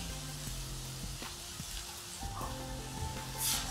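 Crumbled frozen leftover rice fries in a pan for fried rice, a soft continuous sizzle and crackle close by, with faint tonal background hum and a brief hiss burst near the end.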